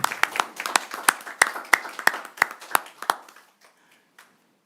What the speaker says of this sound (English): So, a big applause to our staff.